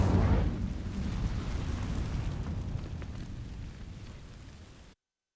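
Incendio fire spell cast in Hogwarts Legacy, a burst of whooshing flame that roars up and then fades into a sustained crackling rush before cutting off.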